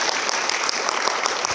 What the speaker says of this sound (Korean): 오늘 멋진 강연 선보여주신 감독님께 큰 박수 한번 부탁드리겠습니다